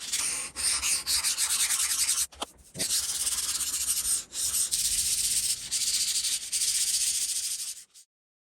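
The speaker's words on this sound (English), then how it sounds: "I'm going to go around it with the stone and just smoothing it out" Steady abrasive rubbing of a sharpening stone along the chamfered edge of a homemade granite surface plate, a close, continuous scraping with brief pauses between strokes.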